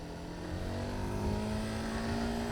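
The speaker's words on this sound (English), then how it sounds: "It's a small motorcycle." A small motorcycle engine drones steadily and loudly for a couple of seconds, a constant mid-revving hum with no voices over it.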